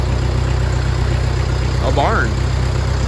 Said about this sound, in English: Just trying to take the tractor and gravity wagon down to the field